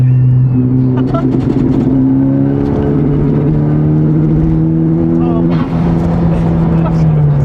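A tuned, previously totaled Honda Civic Type R revs hard in fourth gear with antilag, its loud, sustained engine drone rising and falling close up, while people talk over it.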